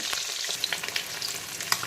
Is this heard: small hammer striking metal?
no